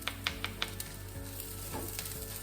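Chorizo and rice sizzle steadily in a smallish frying pan, with a few brisk scraping stirs near the start. The sound is soft and close, with no talking.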